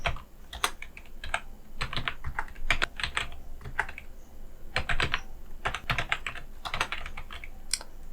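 Rapid, irregular typing on a computer keyboard while editing a multilevel list in Microsoft Word, with crisp close-up keystrokes in bursts and short pauses, no voices.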